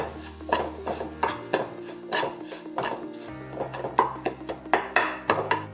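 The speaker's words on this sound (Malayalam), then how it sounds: "കുറച്ച് പാൽ ചേർത്ത് കൊടുത്താൽ മതി. ഇത് നല്ലപോലെ മിക്സ് ആക്കുക." A spoon stirs a wheat flour laddu mixture with added milk in a pan, making repeated scraping clinks and knocks against the metal in a steady, close rhythm.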